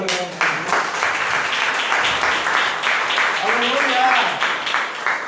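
A church congregation applauds during an evangelical service, with continuous clapping beneath a voice speaking and calling out over it.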